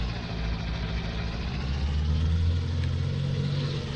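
Truck engine running steadily in Farming Simulator, a continuous low drone and hum holding an even pitch with a slight rise midway, close and fairly loud, with no talk.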